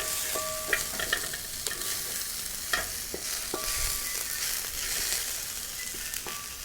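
Mixed vegetables for American chopsuey frying and being stirred in a pan, a steady moderate sizzle broken by regular scraping strokes and metallic clinks of the spatula against the pan.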